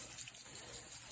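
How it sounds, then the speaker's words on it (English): Water runs from a hose onto the dirt of a pig pen site to wet it for digging, a steady hissing gush, brief and moderately quiet. "Wetting it down to get ready to do some digging"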